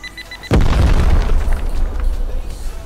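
A single loud, deep boom from a raid explosion in the survival game Hurtworld, bursting suddenly and then rumbling and crackling for a couple of seconds.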